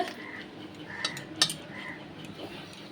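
A metal cooking pot is lifted off a home stove after cooking rice and fish-roe curry, giving a few light clanks and scrapes of metal against metal, close by and fairly quiet.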